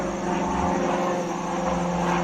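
An airplane passes overhead with a steady, broad engine roar that stays at an even loudness for a couple of seconds, with no talking.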